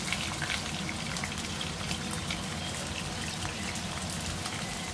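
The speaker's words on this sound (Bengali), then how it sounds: "চলো আগে একটু পনিরগুলো ফ্রাই করে নিচ্ছি।" Paneer cubes fry in a pan with a steady, dense crackle and spatter that stays even and close throughout, with no voices.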